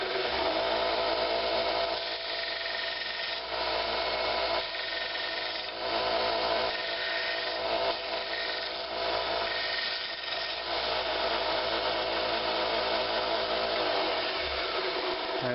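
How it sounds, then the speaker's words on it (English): Steady, loud whine of a belt sander grinding the rough edge of a Kydex piece, running continuously with slight dips in load as the plastic is pressed against the belt, close to the microphone and without talk. "I'll just take that over to my belt sander and just touch up the edge."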